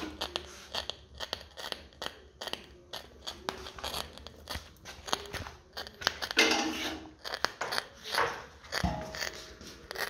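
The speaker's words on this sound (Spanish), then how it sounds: "El crujido que hace hasta parece una freidora." A tiny overheating twin-rotor Wankel engine gives off irregular dry crackles and pops, sharp and close, in scattered bursts with a brief fizzing surge partway through.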